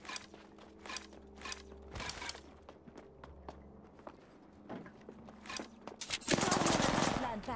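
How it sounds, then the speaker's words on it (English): Rapid automatic gunfire in a battle royale video game, with bursts, mechanical clicks and footsteps, ending in a loud dense volley of shots. "Shooting."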